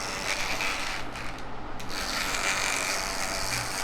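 A running electric hair clipper gives off a continuous harsh, grinder-like buzzing during a low fade haircut, close and steady with only slight changes in tone.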